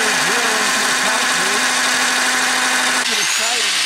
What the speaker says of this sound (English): So then we drill into the concrete,